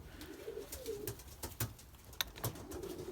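Racing pigeons coo softly in low, rolling phrases close by, with scattered wing flutters, scratches and sharp clicks from the loft between calls.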